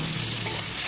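Fried spice paste in oil crackles and sizzles loudly and continuously as a little water is added, a brief burst of dense hissing with no talking.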